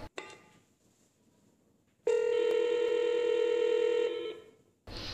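A MyPBX IP phone system rings a SIP extension called from an FXS extension: a short tone blip, then a loud steady electronic ring lasting about two seconds, then another burst begins at the end.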